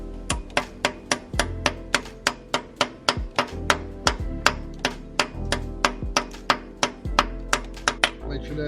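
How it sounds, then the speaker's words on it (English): Steady, rapid hammer taps on metal during a Nissan 370Z NISMO clutch install, about thirty sharp strikes in a quick even rhythm, close and clear with a faint ringing between blows. "So we take that, and then we take a hammer"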